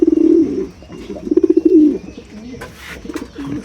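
Pigeons, many of them moulting, give close, loud rolling coos in two pulsing bursts, followed by quieter fluttering and shuffling sounds.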